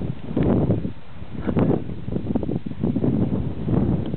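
Wind buffets a microphone outdoors during preparations to launch a model aircraft, a steady low rumble with gusty surges throughout the clip and no clear talk.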